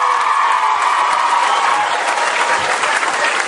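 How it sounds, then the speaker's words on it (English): A crowded audience claps together loudly and continuously, a dense even wash of applause with no break. "put your hands together and give yourself a clap"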